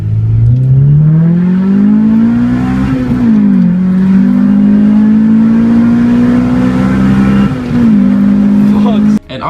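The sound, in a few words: car engine revving during a drive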